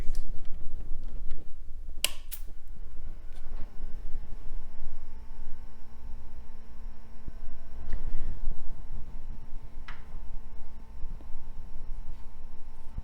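Sharp, irregular ticks and crackles from an old IBM EduQuest CRT monitor at power-on pop up now and then over a faint electrical hum, with a few louder snaps standing out.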